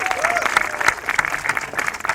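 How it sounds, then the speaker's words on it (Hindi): Studio audience applause on a Punjabi-Saraiki theatre talk show, a dense burst of clapping at close range with no speech over it. "साडे वल्लों इस पूरी बेल्ट वास्ते तालियां।"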